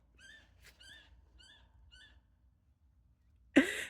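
Four short, harmonic bird calls repeat at a steady pace against a quiet background, then a sudden loud rustle or thump ends the sequence.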